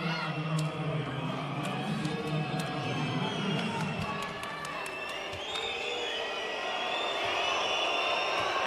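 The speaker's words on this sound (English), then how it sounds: "And now the boos coming in" Polish crowd in a volleyball arena during a USA versus Germany Olympic qualification match, a sustained loud wash of crowd noise with whistles and shouts, booing mixed into the steady roar.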